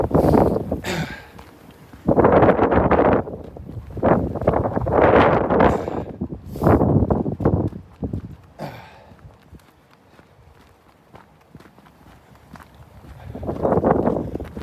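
Strong wind buffets the microphone in loud, roaring gusts that rise and fall, with calmer gaps between blasts.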